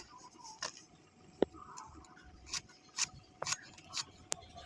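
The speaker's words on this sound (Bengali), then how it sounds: "এবার আমি বেগুনটা কাটবো খুব ছোট ছোট করে" A knife chops eggplant into small pieces on a cutting board, giving sparse, irregular crisp taps, fairly faint and close, with no talking.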